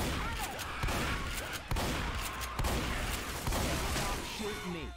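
Video game gunfire rattles in repeated bursts of shots, loud and dense, with brief pauses between volleys and shouted voices mixed in.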